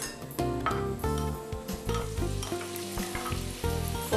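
Onions frying in hot oil in a pan, a steady sizzle with occasional stirring and clinks, heard under a prominent melodic music bed.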